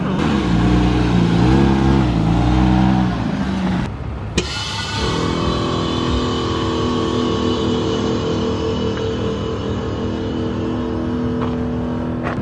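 A BMW E36 M3 creeping onto a trailer, its engine idling and blipping under load at first, then dropping to a steady, smooth idle after a brief pause, close and loud.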